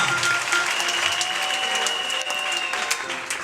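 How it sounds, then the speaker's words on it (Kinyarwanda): A church congregation applauding, a dense sustained clapping from many hands that fills the space evenly, loud and continuous throughout. "Munyemere tuyikomera amashyi ubuntu bw'Imana"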